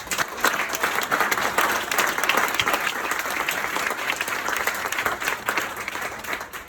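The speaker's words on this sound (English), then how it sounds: "I think we all owe them a round of applause." An audience at a women's centennial voting event breaks into sustained applause, a dense steady wash of many hands clapping that holds for several seconds before starting to ease.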